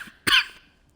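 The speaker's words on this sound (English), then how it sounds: "I got a little bit of cough." One short, sharp cough from a man at close range, standing alone with no talk around it, the speaker suffering from allergy-season coughing.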